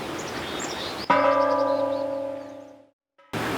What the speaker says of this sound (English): And I invite everybody from Lyons to come and ring the bell.